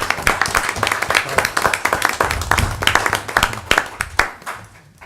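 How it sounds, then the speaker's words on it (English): Attendees at a town council meeting give a round of applause, a close, lively patter of many individual claps lasting several seconds before thinning out to a few last hands. "let's give them a round of applause"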